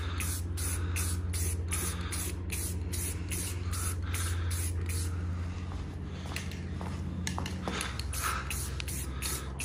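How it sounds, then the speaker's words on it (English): Spray can of Tremclad oil-based gloss gray rust paint misting onto Toyota FJ Cruiser control arms in light coats: repeated short hissing bursts, close and loud, with brief pauses between passes. "don't start spraying in the middle anywhere. And just really light coats"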